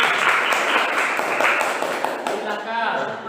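Classroom of students clapping for a student group about to present, a brisk burst of applause that thins out toward the end, with voices mixed in.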